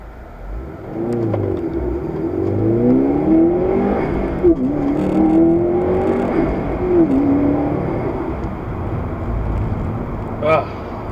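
A Subaru STi in Sport Sharp mode pulls away from a traffic light, its engine revving upward through rising pitch with shifts, fairly close, while someone talks over it.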